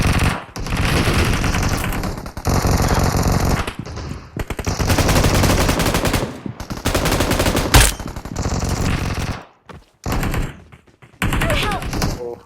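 Heavy automatic gunfire from PUBG Mobile (BGMI) in Castle mode, with long sustained bursts of rapid shots broken by short pauses, loud and close throughout.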